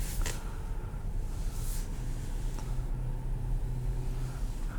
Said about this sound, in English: Car's descending the hill on its own.